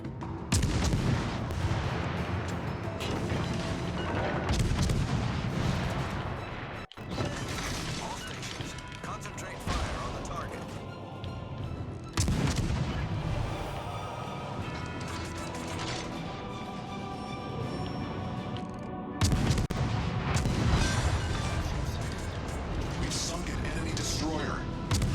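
Warship guns firing in the video game World of Warships Legends: loud, repeated broadside blasts land every few seconds amid constant battle clatter and rumble, with a voice talking over the action.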